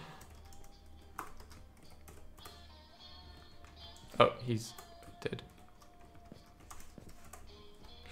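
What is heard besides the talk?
typing on a computer keyboard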